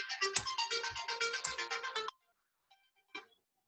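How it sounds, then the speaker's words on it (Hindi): A mobile phone ringtone for an incoming call chirps in a rapid, bright repeating pattern for about two seconds, then cuts off, followed by a couple of faint short tones in near silence. "मेरे को एक फोन, इंपॉर्टेंट फोन आ रहा है।"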